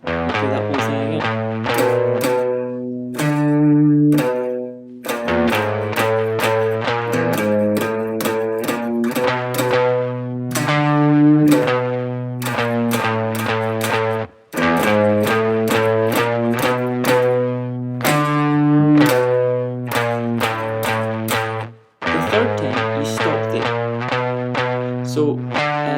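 An electric guitar played through heavy distortion chugs out a riff in repeated rounds, with loud sustained power notes separated by brief pauses and no talk over it.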